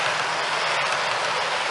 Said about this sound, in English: it's so nice to have 4 trains running